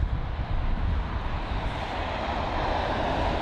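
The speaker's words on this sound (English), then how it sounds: "So the TA or Turkish Airlines A350 there, that's taxiing in front of us." Steady jet engine roar from a Turkish Airlines Airbus A350 taxiing at London Heathrow, a continuous broadband rumble heard from a distance with no voices.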